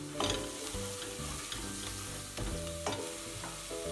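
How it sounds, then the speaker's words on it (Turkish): Tomato paste and grated garlic frying in a pan for lentil soup, with a close, dense sizzle throughout and occasional spoon scrapes, while a faint tonal hum sits in the background. "Salçasını da güzelce kavuruyorum."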